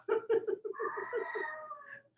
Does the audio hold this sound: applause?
no